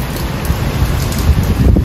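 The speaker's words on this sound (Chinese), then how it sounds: "雨是停了，风又有点回来了。" Wind gusting during Hurricane Ian, a loud, close rumbling roar that buffets the microphone steadily throughout, with no voices heard.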